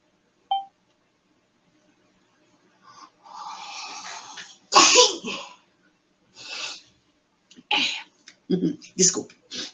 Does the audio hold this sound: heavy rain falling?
no